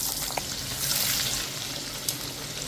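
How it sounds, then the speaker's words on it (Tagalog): Steak fries frying in hot oil, a steady close broadband sizzle with a few small pops, continuous and alone without talk. "Pagkatapos, sunod na rin nating iprito yung steak fries."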